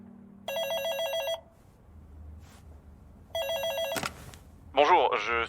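An old-style telephone bell rings in two loud bursts separated by a quiet pause in an office setting, followed by a brief voice.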